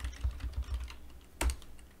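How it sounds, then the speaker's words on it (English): Computer keyboard keys clatter in quick uneven taps at close range during a Lisp programming session, with a short pause and then a sharper cluster of strokes. "And I'm typing the wrong thing."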